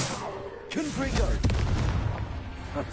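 A Confringo blasting spell goes off in Hogwarts Legacy, a loud booming burst with rumbling aftermath, heard over a player's voice.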